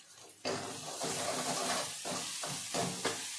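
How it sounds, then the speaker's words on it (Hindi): A masala of tomato, ginger and green chili frying in a pan, giving a steady close sizzle and hiss with a few stirring scrapes, no voices. "अच्छी तरीके से मसाला भून चुका है।"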